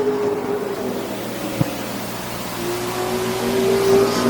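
Super stock race cars at Flamboro Speedway roar past together in a steady, loud engine drone that swells toward the end, with one sharp knock partway through and no talk.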